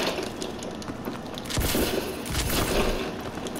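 KF5 gunfire in the game Call of Duty Advanced Warfare, with bursts of shots and booms in two clusters over a steady game-sound background and no talk.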